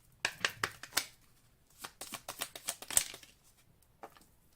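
Oracle cards being shuffled and drawn, a close run of quick papery riffles and soft slaps in uneven bursts, with short pauses between them.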